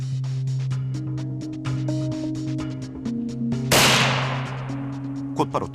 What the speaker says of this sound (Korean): 곧바로 들려온 총소리.